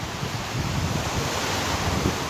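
Sea surf breaking steadily along the Urla coast near Izmir, a continuous broadband wash with wind buffeting the microphone, no voices.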